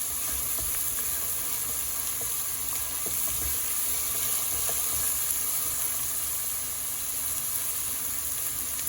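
Onions frying in a pan with green chili and salt, a steady close sizzle with crackling spatter that holds at an even level throughout, with no voices.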